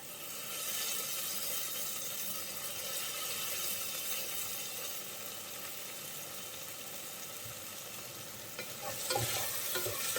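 Soya biryani masala with coriander leaves sautéing in a pan, giving a steady, close frying hiss that stays even throughout, with a few spoon scrapes near the end and no voices.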